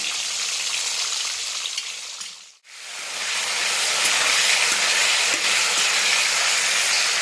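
Chopped tomato sizzling in hot oil with cinnamon, cloves and bay leaves for a Bengali cabbage curry, a loud steady frying hiss that stops for a moment and then returns stronger and continues.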